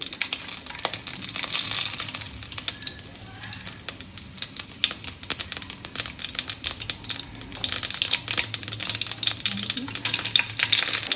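Byadgi chillies and curry leaves sizzling in a spoonful of hot oil, a loud, continuous crackling fry with bursts of popping and stirring scrapes throughout.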